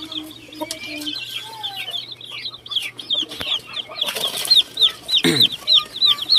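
Backyard flock of Buff Orpington, Silkie, native and Frizzle chickens, with many close, overlapping chick peeps and clucks in quick bursts, plus a brief flutter of wings partway through.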